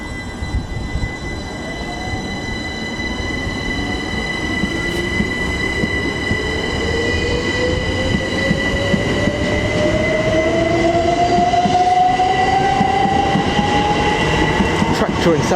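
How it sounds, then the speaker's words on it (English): A pair of Class 387 electric trains on a Great Northern service pulls out of Cambridge station, close by, with a rising electric whine building steadily over rumbling, squealing wheels and track noise. "ready to depart Cambridge is a pair of 387s on a Great Northern service from London King's Cross to"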